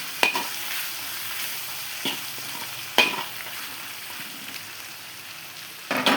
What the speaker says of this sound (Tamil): உப்பு சேர்த்து நல்லா வதக்கிக்குங்க.